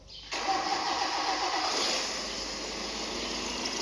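An engine starts abruptly and then runs steadily with a broad, noisy roar that settles to a constant idle, during a valve clearance check for ticking noise and vibration.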